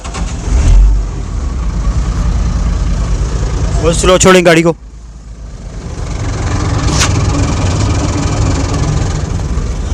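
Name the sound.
Bedford truck engine starting and idling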